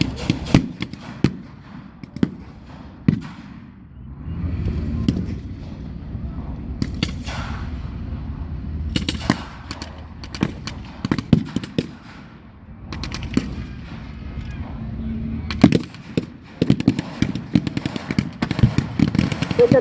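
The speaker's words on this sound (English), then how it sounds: "With the battering of the Bren gun, the German half-track has had to withdraw, but he still fires again and again" Bren gun fire during a battle reenactment with a German half-track, with sharp bursts and single cracks scattered throughout, some near and loud, others more distant, over a low rumbling background.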